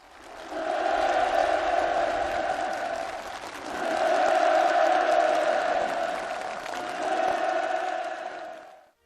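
Participants at a ceremony handing over permits for new housing applaud warmly, a dense, sustained wash of clapping and crowd noise that swells in three long waves with no break.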